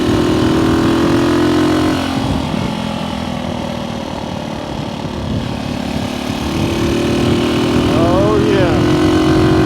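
A motorcycle engine, loud and close, drones steadily as it accelerates, its pitch rising and dipping as it shifts up a gear; a rider's brief exclamation sits over the engine noise.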